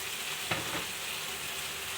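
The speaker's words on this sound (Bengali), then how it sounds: "এবার একটু জল দিয়ে কষিয়ে নেব মশলা" Spice paste sautéing with a splash of water for a Bengali bhola fish curry, a steady close hiss of frying with one brief clink of a spoon or stir partway through.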